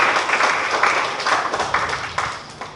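An audience applauding at a university public lecture, with several bursts of clapping rising and fading, fairly close and loud, no talking over it.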